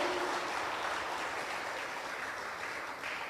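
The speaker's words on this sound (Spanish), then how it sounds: "Dele fuerte las palmas al Señor en el nombre de Jesús." A church congregation clapping hands together in praise, a dense steady patter of many palms sustained throughout, fairly quiet and without audible talk.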